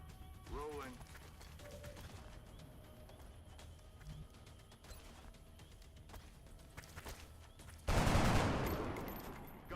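A burst of automatic gunfire in the XCOM: Enemy Within video game erupts loudly near the end, following quieter game sounds and a voice line.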